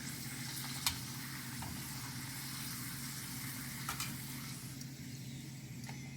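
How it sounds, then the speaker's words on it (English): A papad fries in hot oil with a soft, even sizzle throughout and a few faint clicks or taps, with no voices. "Put it in the oil, fold it,"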